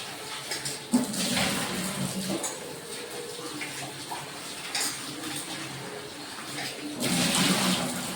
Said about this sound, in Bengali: যে পেঁপেগুলোকে আমি সুন্দর করে ছাড়িয়ে পিস পিস করে নিয়েছি, এখন ধুয়ে নেব।